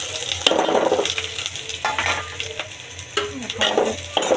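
Onion, green chili and garlic sizzle in hot oil while being stirred, with scraping strokes every second or so over a steady close frying hiss.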